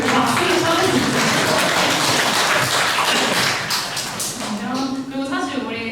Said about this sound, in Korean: 우리 박수를 쳐주세요